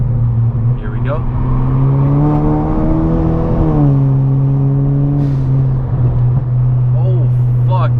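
Tuned Kia car accelerating hard in third gear with traction control off, a loud, steady engine drone rising in pitch, with a brief dip around the midpoint before it climbs again; nearby voices speak briefly over the engine.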